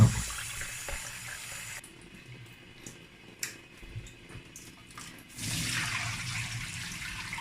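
Water runs from a kitchen tap over peeled beans being rinsed for akara, a steady splashing wash that thins briefly before surging louder again, close by and without talk.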